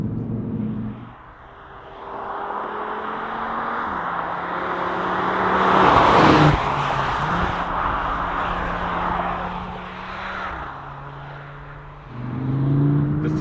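A 2022 Audi RS 3 engine pulls under acceleration, its steady drone stepping up and down through gear changes and swelling mid-run, heard close from inside the car with no talk.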